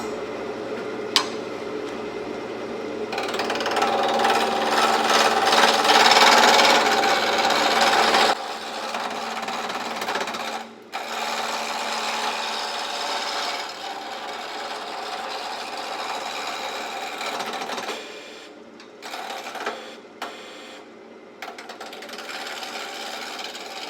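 Chisel scrapes and rasps against spinning wood on a wood lathe, a sustained close grinding hiss that swells, then drops to a lighter steady whir with brief interruptions as the tool is repositioned along the rest.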